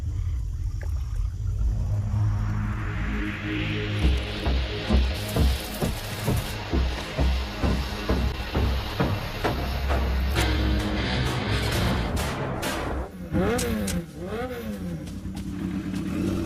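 A motorbike engine revving hard as a thief rides off on it, loud and close at first, with rising and falling rev surges before the sound thins and pulls away.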